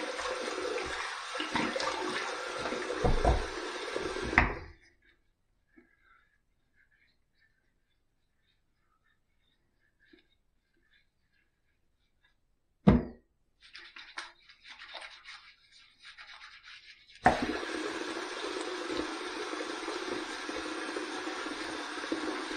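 Running tap water rinsing the face before a shave, a steady close rush from the faucet that cuts off, leaving near silence, then splashing and dripping before the flow resumes loudly.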